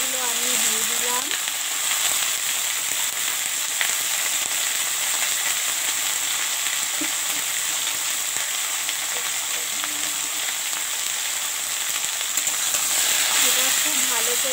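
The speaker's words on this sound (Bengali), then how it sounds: "এগুলোকে ভেজে নিতে হবে।" Potato, eggplant and bitter gourd pieces frying in a pan give off a loud continuous hissing sizzle, with a voice speaking briefly at the start and again near the end.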